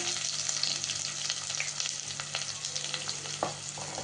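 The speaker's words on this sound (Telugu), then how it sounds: "ఇవి ఫ్రై అయిన తర్వాత సన్నగా కట్ చేసుకున్న ఉల్లిపాయలు, పచ్చిమిరపకాయలు వేసుకోవాలి" Sliced onions and green chillies sizzle in hot oil with whole spices for chicken fry biryani, a steady close frying hiss with occasional stirring clinks and scrapes, no voices.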